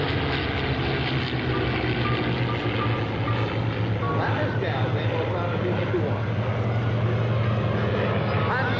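Warbird propeller aircraft such as a P-47 Thunderbolt, P-51 Mustang and Yak-9 passing at an outdoor airshow, a steady loud engine drone with crowd and announcer talk underneath throughout.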